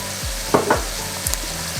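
Chili con carne being stirred in a frying pan, with a soft sizzle under a few distinct scraping strokes of the utensil against the pan.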